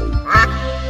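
A cartoon duck quacks once in a children's phonics song, a short loud nasal call over sustained musical accompaniment.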